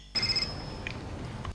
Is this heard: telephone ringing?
yes